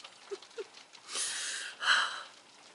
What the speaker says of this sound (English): And now today we get hail.